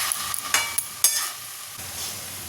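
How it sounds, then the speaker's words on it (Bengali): Sugar being stirred into a cooking dish in a pan: a few close scraping strokes and clinks over a soft sizzle, then quieter steady frying, with no talking. "নেড়ে ছেড়ে না মিশিয়ে দেবো চিনিটা"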